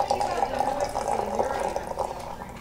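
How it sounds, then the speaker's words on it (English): Cooled water poured from a silver pot for tea, a steady splashing trickle that runs continuously for a few seconds and fades slightly at the end, close and moderately loud. "I'm going to pour it in such a way that it chills out some more, because the air gets to it."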